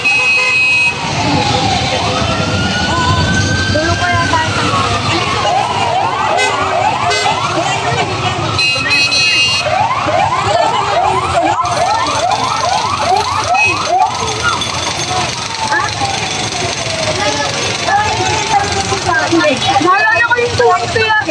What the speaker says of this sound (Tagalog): nagdatingan na rin yung mga fire truck or mga water truck